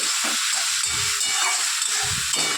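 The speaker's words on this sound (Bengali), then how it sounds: "একটু ভালো করে ওটাকে লাল লাল করে ভেজে নিচ্ছি।" Fish roe frying with turmeric in a pan, a steady loud hiss of oil and steam running throughout with a few low clatters underneath.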